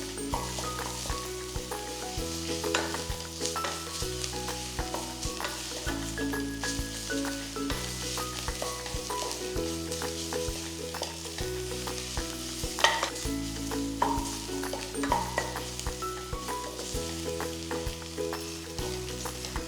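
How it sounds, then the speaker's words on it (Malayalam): Chopped ginger and garlic sauté in a pan for Kuttanadan duck curry, giving a continuous close sizzle and crackle with occasional stirring, under steady background music. "ഇതുമായിട്ട് നന്നായിട്ടൊന്ന് വഴറ്റിയെടുക്കുക."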